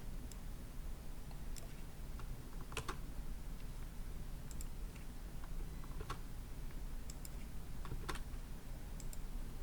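Typing an email, username and password on a computer keyboard while creating an account: a steady patter of soft key clicks, close and continuous, with a few sharper taps, alone without talk.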